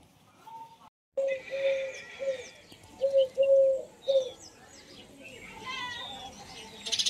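A bird perched on a pole at dusk in a village gives soft repeated coos, a pigeon or dove, fairly near, with faint chirps and light outdoor background.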